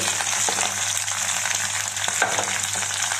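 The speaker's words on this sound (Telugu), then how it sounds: "మసాలా పది నిమిషాలు లో ఫ్లేమ్లో వేయించుకుంటామండి" Masala for a mutton curry fries over a flame, producing a loud, dense and unbroken sizzle with faint stirring beneath it and no voices.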